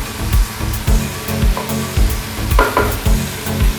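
Tomatoes and green chillies hit hot oil with garlic in a pan for okra curry, sizzling loudly in repeated surges as they are stirred, with rhythmic scraping bursts close up.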